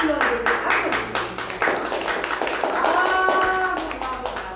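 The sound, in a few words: children applauding in class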